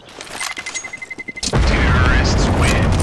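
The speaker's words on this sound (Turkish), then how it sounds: "Bomba patladı gel." A loud, sudden bomb explosion in CS:GO booms in and holds as a sustained roar of rumbling debris, following a stretch of rapid, pulsing game sounds.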